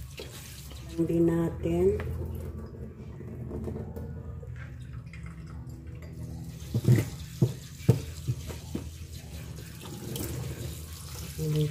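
Bean sprouts get rinsed under running tap water in a sink, a splashing flow with handling clatter and intermittent bursts, while someone talks over it.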